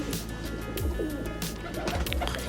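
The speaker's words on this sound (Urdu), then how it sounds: "یہاں پہ کچھ کمانگر کبوتر میرے ہیں" Kamanger pigeons at a pigeon loft in Kashmir coo softly amid dense background noise, several low rolling coos overlapping with scattered chirps.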